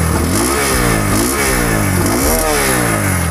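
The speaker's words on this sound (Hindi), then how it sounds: "रेव करके मैं आपको एग्जॉस्ट नोट अंडर बेली एग्जॉस्ट नोट सुनाता हूँ।" Close, loud revving from a 2024 Bajaj Pulsar N125 base-model 125cc motorcycle through its underbelly exhaust, with repeated throttle blips rising and falling over a steady engine drone and no talking.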